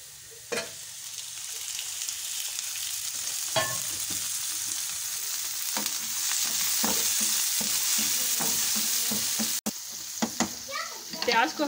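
Onions frying in a pan for Lahori egg and shami tikki, a steady close sizzle broken by repeated stirring and scraping, with a brief break near the end.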